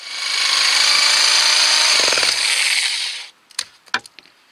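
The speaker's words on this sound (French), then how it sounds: "Et je vais découper à la scie sauteuse." A jigsaw cutting wood whines loudly and steadily for about three seconds, then stops, followed by a few sharp clattering knocks.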